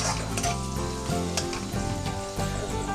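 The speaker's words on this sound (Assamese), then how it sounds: "পিঁয়াজখিনি ভালকৈ ভাজি ল'ব।" Onions sizzle and fry in hot oil with ginger-garlic paste as the base for a desi-style pork curry, a steady close crackling that runs throughout with no talking.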